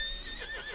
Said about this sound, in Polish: Popatrz, to jego koń.